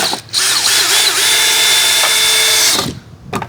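A power drill drives a screw into a wooden rafter during a gable roof build, one loud close whirring run of about two and a half seconds ending in a short clatter.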